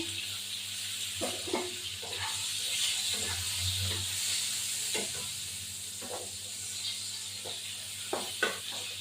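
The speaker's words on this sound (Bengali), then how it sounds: "হালকা করে বেগুনগুলো ভেজে নেবো।" Soft, continuous sizzling of eggplant frying in a pan, with occasional clicks and stirring scrapes, close and fairly quiet.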